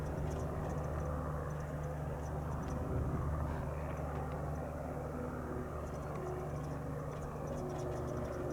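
A small aircraft takes off from runway 8 right at Spirit of St. Louis Airport, giving a steady, broad engine roar that holds evenly throughout at moderate distance, with no voices.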